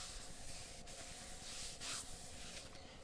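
A rag wipes a Chevy 235 inline-six engine cylinder coated with WD-40 during a rebuild, producing a close, continuous scrubbing and rubbing hiss with short surges of pressure and no talking.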